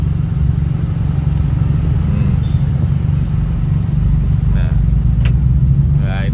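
A 2011 Honda Civic FD 1.8 manual with a Pacific exhaust drives around a park, its deep steady exhaust rumble droning loudly throughout the cabin, with a few brief clicks and chimes near the end.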